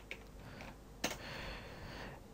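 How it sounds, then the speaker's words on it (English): A few quiet keystrokes on a computer keyboard as a command is typed into a CSGO server console, soft isolated taps with one slightly louder clack. "If you wanna know what's your IP of the server, you just type status."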